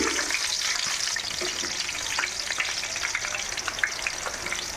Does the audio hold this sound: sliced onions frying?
yes